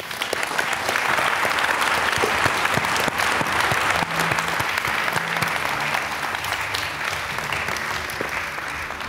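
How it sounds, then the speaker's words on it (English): A conference audience at CPAC Hungary 2023 applauds the speakers in sustained, dense clapping from a large crowd, loud and continuous throughout. "Big applause for them."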